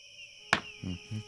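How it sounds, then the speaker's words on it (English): Crickets chirp in the evening as a thin, steady high-pitched trill that runs throughout, joined by a sharp click and two soft low thuds close by. "The sound of those crickets makes me so happy."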